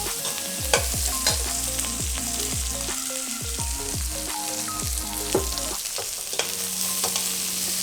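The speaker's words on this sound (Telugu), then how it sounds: "ఇప్పుడు ఉల్లిపాయలు వేసుకుందాం." Chopped onions sizzle in hot oil with mustard seeds, a steady loud hiss broken by frequent clinks and scrapes of a stirring spoon against the pan.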